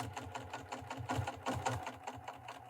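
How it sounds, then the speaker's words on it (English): A sewing machine fitted with a strong size 100 jeans needle stitches through the thick layers of a pant hem, a steady rapid mechanical chatter running throughout at close range with no talk. "I do have that 100 jeans needle in the machine, so that's a very strong needle"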